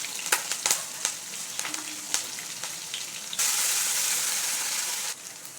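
Spatula taps and scrapes in a pan give way to a sudden loud hiss as asafoetida and curry leaves drop into hot oil, the fierce sizzle holding for nearly two seconds before dropping back.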